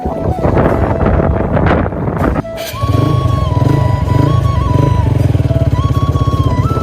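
Motorcycle ride toward a riverbank erosion site in stormy weather: a steady engine drone with a whining gear tone runs throughout, heavily buffeted by loud wind noise on the microphone.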